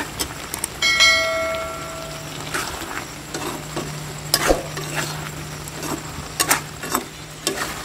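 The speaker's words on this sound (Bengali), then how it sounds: "ভালো করে নেড়ে নিই, হলুদটা যখন দিলাম তো নেড়ে নিই একটু" Chicken with turmeric and ground black pepper is stirred in a pan, giving irregular scraping strokes with a low, steady sizzle beneath; a brief ringing tone rises near the start.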